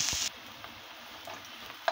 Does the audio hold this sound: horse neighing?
no